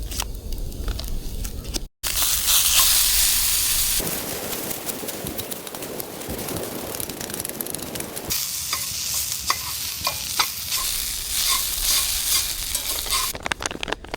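Gravy for a Spam breakfast burrito being stirred and cooked at a winter campsite on the Oregon coast, with steady close sizzling and frying and repeated scraping strokes of a utensil in the pan, with no talking.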